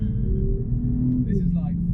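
A BMW engine holds a steady drone at about 40% throttle, a continuous low rumble heard from inside the car, with people talking over it.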